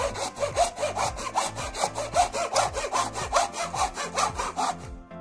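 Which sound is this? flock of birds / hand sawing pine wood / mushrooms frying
hand sawing pine wood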